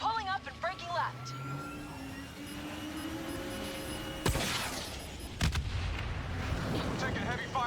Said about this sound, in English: We're taking heavy fire over here.